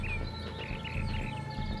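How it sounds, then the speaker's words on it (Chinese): Small birds chirp and whistle outdoors among hills and trees in a rural hometown, with short, faint, scattered calls over a steady low background hum. "多么好听的鸟叫声！"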